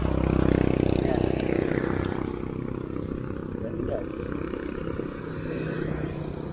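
Motorcycle engines drone loudly, fading slightly as one passes, with a continuous rumbling whine and faint talk in the background.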